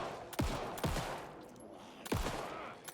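Gunfire from the video game Alan Wake 2, several sharp booming shots in quick irregular succession with a ringing tail, loud and close.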